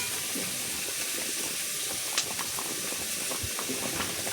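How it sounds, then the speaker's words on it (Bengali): Curry gravy for a prawn and elephant foot yam dish boiling steadily in a pot, a continuous close bubbling hiss broken by occasional small pops. "দেখো বন্ধুরা, ঝোলটা ফুটে গেছে।"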